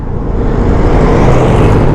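Riding a Vespa Sprint 150 scooter gives a loud, steady engine drone and rushing road noise up close, continuous for the whole short stretch with no talking.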